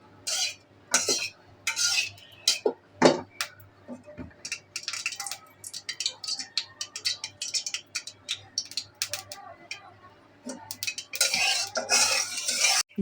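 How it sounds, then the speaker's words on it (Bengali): Chillies frying in soybean oil in a pan, heard mostly as repeated scraping and clinking of a utensil stirring against the pan in irregular bursts, with only a faint sizzle beneath. "মরিচটা একটু ভাজা হলে দিয়ে দিব রসুন কুচি"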